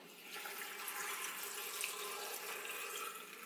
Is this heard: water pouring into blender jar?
yes